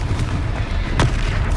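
A Confringo blast spell explodes in the video game Hogwarts Legacy, a dense, sustained rumble of booming blasts with a sharper burst near the middle, loud and close over constant game noise.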